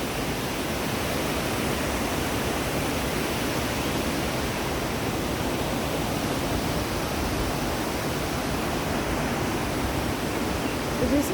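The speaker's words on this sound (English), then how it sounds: "here you can see the waterfall and the beauty of the nature" Waterfall at Krang Suri Falls in Meghalaya, a trekking spot: a steady, loud broadband rush of falling water fills the whole stretch without a break, with no voices over it.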